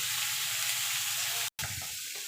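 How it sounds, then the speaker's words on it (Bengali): Pumpkin and bitter gourd fry in a covered pan over low gas, a continuous close sizzle broken by a brief gap, then resuming with faint clatter, quiet overall and without talking. "এবার ঢাকা দিয়ে এটাকে আমি ভাজা ভাজা করে নেব যতক্ষণ কুমড়োটা সিদ্ধ না হচ্ছে।"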